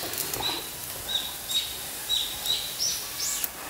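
Small birds chirp in short, bright, repeated calls beside an outdoor campfire of thin twigs and damp wood after rain, the chirps moderately near and spaced about every half second over a steady background hiss.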